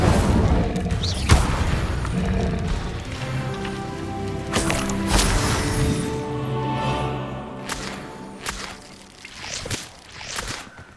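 Fire spell bursts in Hogwarts Legacy, several loud whooshing booms with crackling flame tails spread across the clip over a busy game soundscape.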